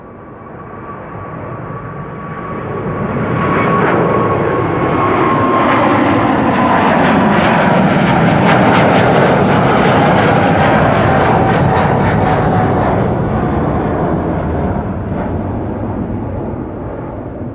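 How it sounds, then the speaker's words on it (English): KLM airliner on flight 743 to Lima departing Amsterdam Schiphol via runway 24, jet engine roar building over a few seconds to a loud steady rumble with a thin whine, then easing slightly. "And here KLM flight 743 to Lima in Peru, right next to"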